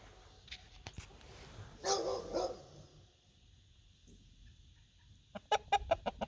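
A new rooster crows loudly in a burst near the middle, with dogs barking in short sharp bursts toward the end and softer clucking and movement between.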